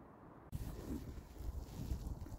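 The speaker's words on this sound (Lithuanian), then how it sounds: "Vėjas pučia" Wind gusts across the microphone in low, rumbling buffets over a lake with ice along the shore, steady and close, with no voices.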